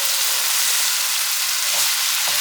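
Tomato paste frying in a pan for a homemade pasta sauce, a steady loud sizzle close by with a couple of faint stirring scrapes and no talking.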